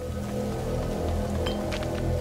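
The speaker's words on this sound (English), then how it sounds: "Lucas, Hugo, stay out of the rain" Rain in the video game A Plague Tale: Innocence, a continuous dense patter of drops on surfaces with a few brighter splashes, steady and fairly loud throughout.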